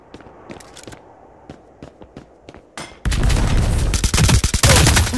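Triple-shot weapon fire in the shooter game Hyper Front: a string of sharp distinct shots and footsteps at first, then a loud dense barrage of gunfire taking over the second half, no speech.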